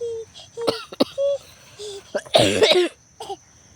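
A person coughs and clears their throat several times, with short vocal sounds in between, the loudest rough cough bursting near the end.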